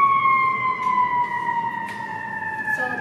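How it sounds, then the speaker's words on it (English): An ambulance siren wails steadily as the vehicle passes along a street, loud and continuous with a slowly falling pitch as it goes by, traffic rumbling beneath. "Yes, there's an ambulance coming through."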